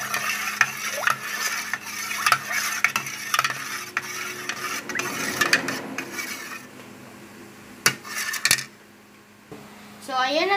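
Spoon stirring a sweet dessert mixture in a metal pot, with repeated scraping and clinking against the pot sides, then a sharp clank near the end; occasional talk over it.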